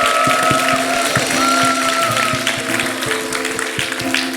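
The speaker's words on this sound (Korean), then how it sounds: "감사의 박수 드리겠습니다" Church congregation clapping in thanks during a Sunday service, a moderate round of hands with distinct individual claps over a sustained tonal background hum.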